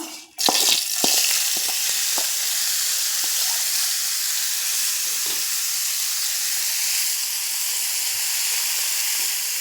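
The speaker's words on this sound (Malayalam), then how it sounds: "അപ്പോൾ ഈ ചെമ്മീൻ ഈ വെളിച്ചെണ്ണയിൽ കിടന്നിട്ട് നന്നായിട്ടൊന്ന് മുരിഞ്ഞ് വരണം" Dried shrimp fry in hot coconut oil, starting with a sudden loud hiss and then holding a strong, even sizzle close by, with a few soft clinks early on.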